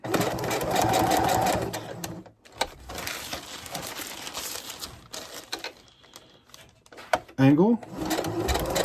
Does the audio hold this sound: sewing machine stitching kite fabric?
yes